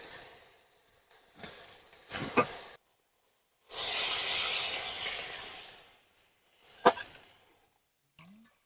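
Water poured onto a well-fried masala in a pan sets off a loud, broad hissing sizzle lasting a couple of seconds, with quieter scrapes and bursts before and after, close by and without talk.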